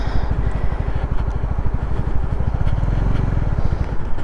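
Honda CB125R motorcycle engine running close by with a steady pulsing exhaust throb as it shifts down into first gear, loud and continuous without talk.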